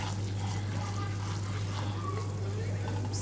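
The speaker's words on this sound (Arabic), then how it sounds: "هنزل باللبن" Milk pouring into a pan for white sauce pasta, a soft continuous liquid trickle over a steady low electrical hum, close and quiet.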